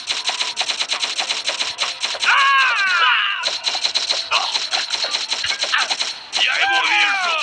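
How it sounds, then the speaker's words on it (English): A turret machine gun fires in the Modern Combat 2 video game: loud, rapid, sustained bursts with short breaks between them, and sweeping whistling effects layered over the gunfire. "Take out as many targets as you can with the turret."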